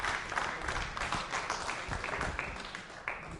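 A quiz show audience claps steadily for the length of the passage, a dense, even wash of many hands with no voices standing out.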